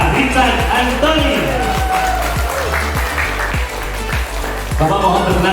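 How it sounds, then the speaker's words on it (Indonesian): Studio audience at a talk show clapping steadily in a dense, sustained burst, with a host's voice speaking over the applause throughout. "Tepuk tangan sekali lagi untuk Bapak Richard Anthony."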